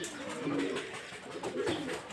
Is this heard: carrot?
no